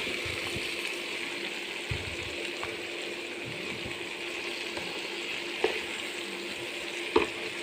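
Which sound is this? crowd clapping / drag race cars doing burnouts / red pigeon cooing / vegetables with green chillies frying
vegetables with green chillies frying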